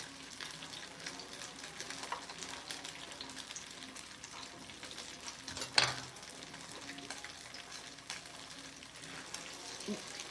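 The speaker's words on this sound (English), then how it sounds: "when we fry this, we're gonna leave it alone." Pork belly sticky rice cake fries in a pan with a quiet, steady sizzle and crackle, broken by one sharper clatter partway through and a few faint knocks.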